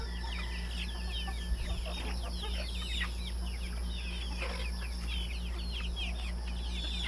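A flock of farm chickens in Bien Unido clucks and chirps steadily as they are shut into their pen at dusk. The many overlapping calls sound close and continuous over a low background hum, and no one speaks.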